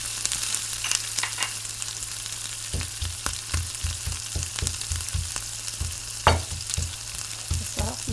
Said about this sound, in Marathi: असं जाडसर हे वाटून घ्यायचं आहे. पटकन हे बारीक होतं बघा.